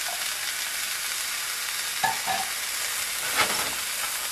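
Chopped tomatoes, peas and carrots are stirred into browning cottage pie mince in a hot pan, a continuous close sizzle broken by a few soft spoon scrapes.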